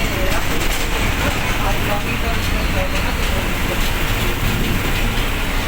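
Steady engine rumble and road noise fill the cabin while riding a city bus toward Kothrud in Pune, a continuous broadband drone with no distinct events, loud and constant throughout.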